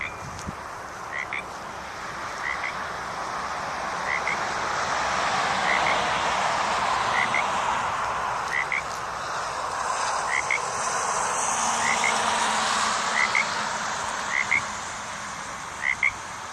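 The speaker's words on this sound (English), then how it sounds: "That's our froggy friend who lives there." A frog croaks in a short repeated call about every second and a half, fairly close, over a steady outdoor background hiss near a drainage ditch on a site tour. A faint voice may murmur underneath.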